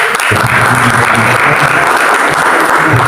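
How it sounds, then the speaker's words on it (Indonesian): A church congregation claps in a dense, continuous wave of applause that fills the room loudly and evenly, with faint voices mixed in underneath. "Aplaus."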